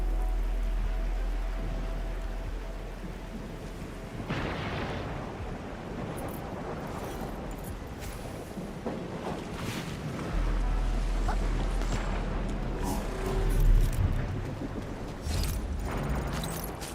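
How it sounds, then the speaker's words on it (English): Heavy rain pours steadily through a video game scene, a dense broadband wash with low rumbling underneath and a few brief louder swells, continuous for the whole stretch with no talking. "It's raining harder. I can't hear anything except for the rain."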